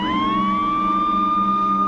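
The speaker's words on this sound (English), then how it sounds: "There's an ambulance for no reason." An ambulance siren wails loud and close, a steady rising tone that holds for a couple of seconds over a low background rumble.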